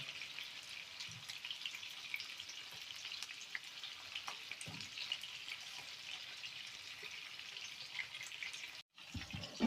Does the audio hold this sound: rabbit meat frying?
yes